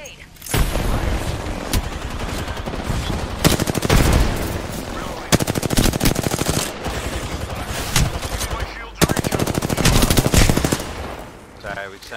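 Rapid automatic weapon fire in the Overwatch shooter game, several long sustained bursts broken by short pauses, loud and dense against in-game effects.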